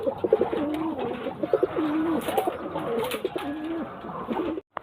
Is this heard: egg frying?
no